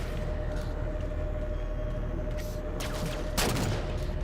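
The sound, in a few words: gunfire from the starboard side in a Halo video game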